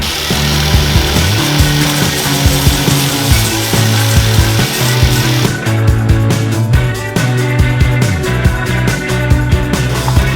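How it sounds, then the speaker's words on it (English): A power sander grinds steadily against metal car fenders, a continuous loud whirring scrape with shifting pitch that never stops. "Now I'll start sanding down those fenders."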